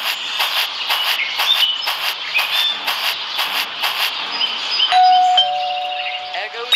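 An electric bell rings in a series of about nine even, loud pulses, followed by a sustained steady tone, with shuffling and movement in the room.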